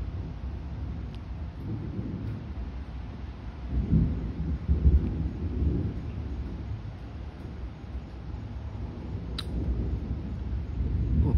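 Low, rolling thunder rumbles through a big electrical storm, swelling and fading over several seconds against steady background noise and wind buffeting, with no voices.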